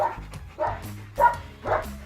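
A dog in a yard barks in four short, loud woofs spaced about half a second apart, close to the listener.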